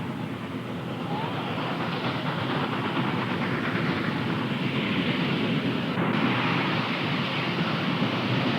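A Challenger steam train climbs Sherman Hill at over 8,000 feet in fog, giving a continuous heavy rumble and roar that builds slightly and holds steady throughout.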